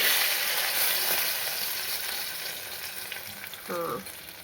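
Capsicum frying in a pan, a soft continuous sizzle close by that fades slightly, with a short tonal clink of a utensil near the end and no talking.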